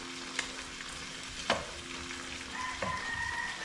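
Sweet corn cooks with butter in a pan, giving a steady soft sizzle with occasional stirring scrapes and clinks, close and moderate in level with no voices.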